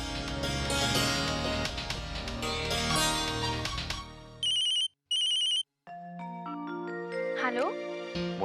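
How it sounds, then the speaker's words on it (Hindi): A phone ringtone chimes in short repeated electronic bursts with gaps between them, after loud music fades out, followed by a melodic tone sequence in a TV drama scene. "मोना, मेरे झल्ले, टाइम मिल गया तुम्हें मुझे फोन करने के लिए?"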